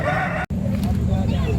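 Roosters crow loudly and close by at a busy chicken market in Makassar, Indonesia, the calls rising over dense crowd noise and chatter, broken by a very brief dropout.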